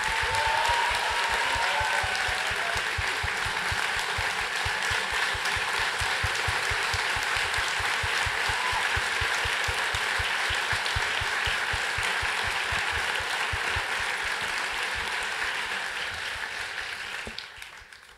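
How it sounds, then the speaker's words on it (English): An audience applauds Minister Makarim at an education event, a dense, sustained roar of clapping from a large crowd that holds steady and fades out at the end. "Let's give a huge round of applause to thank Minister Makarim."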